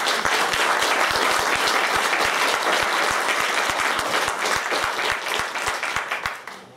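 Audience applause welcoming a poet at a poetry festival in Nanaimo, steady loud clapping from many hands that holds throughout and tapers slightly at the end.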